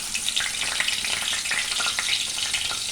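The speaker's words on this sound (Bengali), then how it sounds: "এবার আমি তেল বসিয়ে দিয়েছি কড়াইয়ে, তার মধ্যে দিয়ে দিচ্ছি বাছা মাছগুলো" Loud, dense crackling sizzle of small bacha fish frying in hot oil in a kadai, continuous and close, with sputtering pops throughout.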